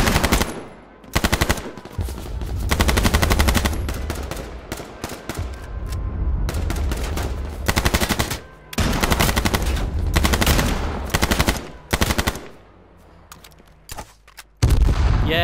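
Rapid bursts of automatic gunfire from the battle royale video game H1Z1, loud sustained volleys broken by short pauses, with a final burst at the end and no talk over it.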